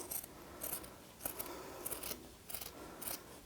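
Scissors snip through the fabric top of a small sewn Easter bag, five or six crisp cuts at an even rhythm, close by and fairly quiet, with no voice.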